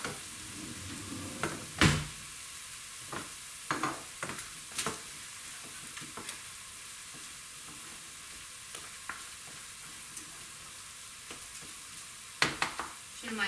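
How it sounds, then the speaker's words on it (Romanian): Food sizzles steadily in a hot pan for a Sibiu-style sour soup with greens, broken by intermittent scraping and clinking strokes of stirring, close and without talk. "Și acum amestecăm bine."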